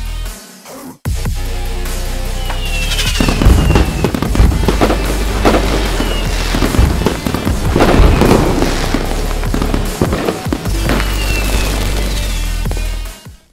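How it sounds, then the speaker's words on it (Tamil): Diwali firecrackers bursting outdoors in a loud, dense barrage, with overlapping booms and sharp cracks going off near and far almost continuously after a brief pause at the start. "நிறைய பேர் பட்டாசு வெடிக்க ஸ்டார்ட் பண்ணிட்டாங்கப்பா"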